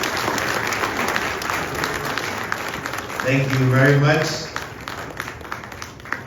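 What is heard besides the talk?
audience applause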